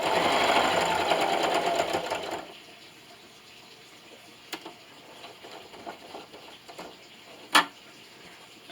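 A sewing machine stitches a quilt finished without binding, running steadily for about two seconds before stopping, followed by quiet handling with a few faint clicks and one sharp tap.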